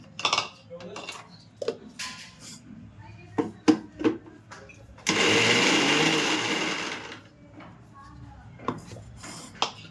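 Green pea mixture ground finer in a kitchen mixer. A loud whirring run of roughly three seconds is framed by clinks and knocks of jar and utensils, and someone speaks between them.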